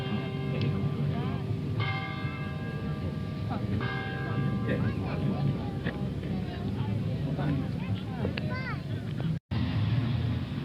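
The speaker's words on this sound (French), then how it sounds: "Là, il y a des carillons." Carillon bells chime repeatedly with sustained ringing tones at an outdoor American car show in Faro, Portugal, over a crowd murmur, passing traffic and wind buffeting.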